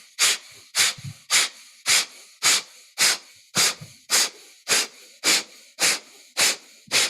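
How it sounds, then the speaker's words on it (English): Twelve sharp, forceful nasal exhalations through one nostril during yoga breathing practice, evenly spaced about every half second, each a breathy hissing burst with a short silence between, close and alone. "we're going to exhale as we do 20 of these fast exhalations"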